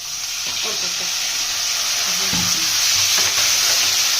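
Spice paste of turmeric and cumin powder with a splash of water frying in a pan, a steady bright sizzle throughout with a few soft stirring knocks and scrapes.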